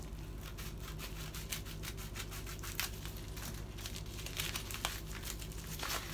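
Close, quiet crinkling and rustling of online shopping parcel packaging being cut open on one side, with soft irregular scratchy bursts and no talk.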